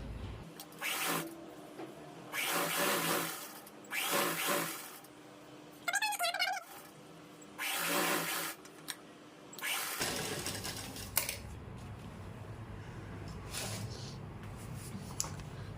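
A sewing machine runs a seam along salwar fabric in several loud, close bursts of whirring stitching separated by pauses, then settles into a steadier, quieter mechanical run.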